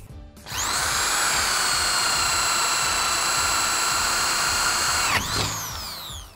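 A Stanley STEL101 electric drill with a 20 mm bit bores into wood, giving a loud, steady high whine that holds for about five seconds before spinning down, with no talking.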